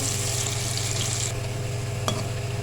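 Finely chopped onion frying toward golden brown in a pan for a turnip dish, a constant dense sizzle close by with one brief clink near the end, no talking.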